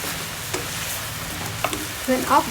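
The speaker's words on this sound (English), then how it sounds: "When you add onion leaf, you have to be high heat and just add about 1 or 2 seconds." Green onion is stir-fried on high heat for sweet and sour chicken, with a low steady sizzle and a few scraping stirs and pan knocks, close by.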